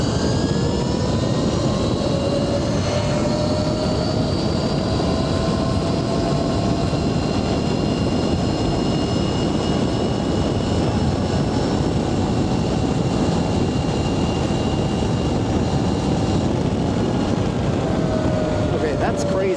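A 16 kW Thunder Wasp XR 16 electric dirt bike rides fast, its high motor whine rising and falling over a constant loud rush of wind for the whole stretch.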